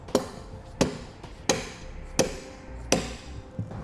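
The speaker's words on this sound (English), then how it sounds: "You may need to tap your bolt out. Make sure you use a rubber mallet so you don't damage the threads on it" A rubber mallet taps a bolt out of a Roadmaster Falcon 2 towbar, giving five sharp, evenly spaced knocks about two-thirds of a second apart, close and clear with no talk.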